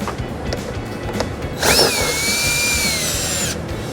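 A power drill fitted with an 8mm socket spins out screws during a trailer wiring installation on a 2016 Ford Escape, a loud whirring burst lasting about two seconds with a rising then steady tone after a quieter lead-in.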